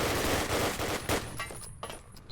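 Call of Duty: United Offensive gunfire in a tournament round, a couple of quick bursts of close, loud shots that thin out into scattered reports, with no speech.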